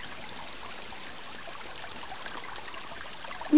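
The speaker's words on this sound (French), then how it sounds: "Elle court dans l'eau." Dog running and splashing through stream water, a steady rushing and trickling wash of water with a sudden louder splash at the very end, no voices.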